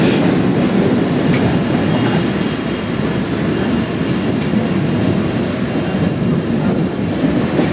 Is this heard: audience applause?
no